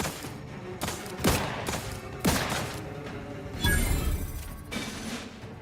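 Scattered gunshots from the game Outer Worlds 2, several sharp bangs spaced out over a few seconds against a steady background of game ambience.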